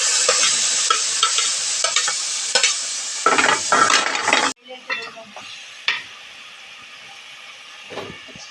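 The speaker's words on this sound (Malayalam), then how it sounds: "നന്നായി ഇളക്കി." Jackfruit seeds for a moringa leaf thoran are stirred in a hot pan. A loud hissing fry runs under scraping strokes for about four seconds, then the sizzle drops away, leaving a few quieter knocks and scrapes.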